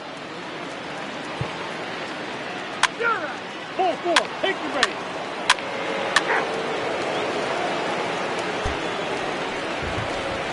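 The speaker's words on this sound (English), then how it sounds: "it doesn't appear that we're going to get much of a break from this rain" Steady rain falls throughout a stadium scene in the baseball video game MLB The Show 21, a constant broadband hiss beneath brief voices and a few short tonal game sounds.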